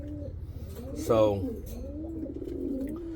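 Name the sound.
pigeons cooing in a breeding loft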